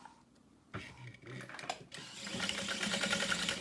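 A sewing machine stitches backpack corners in short bursts: a few sharp clicks and brief runs, then a longer, louder steady whir of needle and motor close by.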